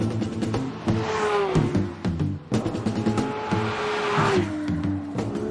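Porsche 992 GT3 flat-six engine revving hard toward 9000 rpm on a forest road: loud, rising high-pitched wails that climb, drop briefly on gear changes, then climb again, with faint tire noise.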